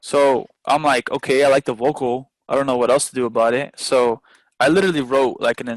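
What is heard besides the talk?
None of the usual background noises is heard.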